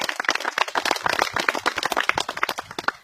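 An audience at an anniversary celebration for a community garden claps vigorously for the referees, a dense burst of close, crisp handclaps with no talking.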